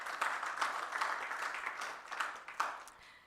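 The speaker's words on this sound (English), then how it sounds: "May you please give him a round of applause in the front." Faint, distant applause from the audience at a stakeholder roadshow event, a soft steady patter of clapping continuing for a few seconds with no voices.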